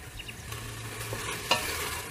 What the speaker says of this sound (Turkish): Şimdi içerisine bir tane yemeklik doğranmış soğan ilave ediyorum.